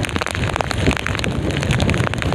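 Heavy monsoon rain pours down at sea around a small boat, a dense, constant hiss mixed with gusty wind buffeting the microphone, with no voices.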